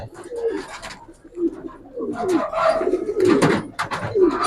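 Silver Giribaz pigeons coo close by in bursts of throaty, rolling calls that overlap and grow denser toward the end, with a voice briefly in the mix.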